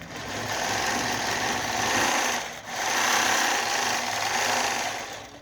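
A JUKI TL-2200 QVP sewing machine stitches through a quilt, a fast, steady mechanical whirr at close range that pauses briefly midway and then resumes at the same pace.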